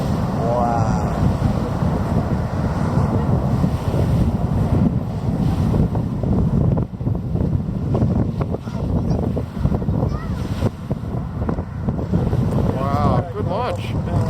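Distant rocket launch rumble at Cape Canaveral, a steady low roar carried with wind buffeting the microphone throughout, while people talk intermittently over it.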